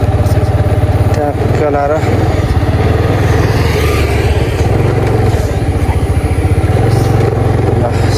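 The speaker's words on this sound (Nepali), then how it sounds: "गाडी आइरहेको छ बाइक" A motorbike runs along a village road, its steady mid-pitched engine drone continuous and fairly close throughout, with a person talking over it.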